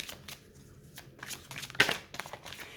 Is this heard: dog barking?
no